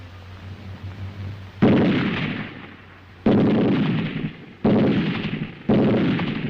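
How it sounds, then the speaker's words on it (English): Sharp rifle reports and machine gun bursts from a WW2 German squad assault crack out one after another, four loud, close blasts, each trailing off in a rolling echo across open ground. "The steady, sharp reports of rifle fire from both flanks and the bursts of covering fire from the machine guns."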